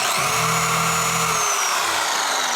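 A machine polisher runs on the hood of a 1990 Lamborghini Countach, a loud steady motor whir close up with a low hum that briefly rises and fades.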